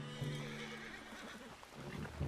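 A horse in Red Dead Redemption 2 whinnies loudly and close, a brief shaky neigh lasting a couple of seconds, with faint hoof clops beneath.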